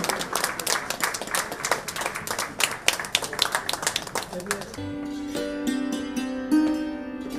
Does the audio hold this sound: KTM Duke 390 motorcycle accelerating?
no